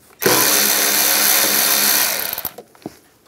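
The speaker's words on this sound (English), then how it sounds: "We're going to loosen up this worm clamp right here using an 8mm" Power tool with an 8mm socket loosening a worm-drive hose clamp on a 2015-2020 GMC Yukon XL during A/C condenser work, a loud whirring burst of about two seconds, then a few trailing clicks and taps.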